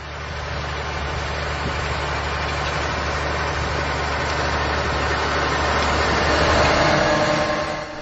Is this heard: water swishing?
no